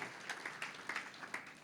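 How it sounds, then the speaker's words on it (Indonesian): A church congregation applauding, a soft, fairly distant patter of clapping with uneven bursts across the short clip. "Berikan tepuk tangan buat dia."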